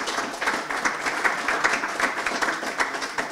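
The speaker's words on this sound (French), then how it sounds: "je propose qu'on applaudisse Gauthier et Florian" Steady applause from a conference audience at a Java developer event, a continuous even wash of many hands clapping with a slightly pulsing rhythm.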